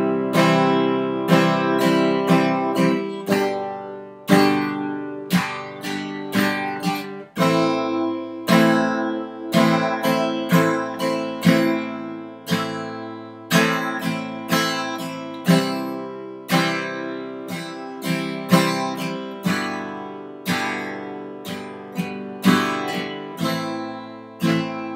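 Acoustic guitar strumming a slow campfire-song chord progression, steady downstrokes ringing out one after another, close and clear with no voices.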